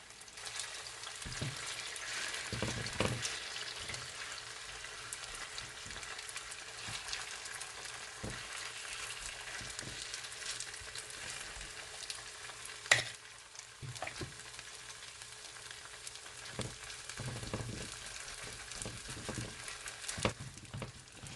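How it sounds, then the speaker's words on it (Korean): Continuous sizzling and crackling of potato pancake batter frying in hot oil in a pan, steady and close, with occasional louder pops and spatters throughout. "이렇게 촤 하는 소리가 나야 전이 맛있게 구워집니다"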